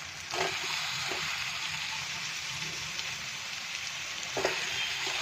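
Chopped boiled potato stirred into onion frying in a pan, a steady close sizzle with a few soft scraping strokes of the spoon.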